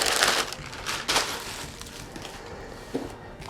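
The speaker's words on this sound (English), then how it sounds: "Packed it with lots of tissue paper" Tissue paper and packing paper rustle and crinkle while a game prototype is unpacked, several bursts of crumpling close to the microphone with quieter handling noise between.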